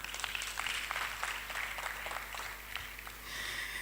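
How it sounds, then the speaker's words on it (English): Audience clapping at a tourism and transport summit plenary session, a steady wash of many hands at moderate volume with no talk, lasting a few seconds. "Our claps is very lame, but we clap now."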